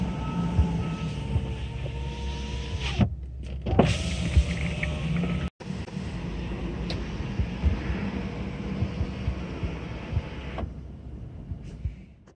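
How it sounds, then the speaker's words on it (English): Power windows on a Land Rover LR2 Freelander 2 motoring up and down, several whining runs each ending in a thump as the glass seats, close inside the car with no talking. "Make sure all windows are working properly, open them up and close them down."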